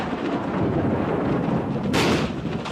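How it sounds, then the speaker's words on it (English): Deep rolling thunder from an approaching storm echoes across mountain hills in the Drakensberg, South Africa, a steady loud rumble that swells into a brighter crack near the end. "The hills echo the coming storm"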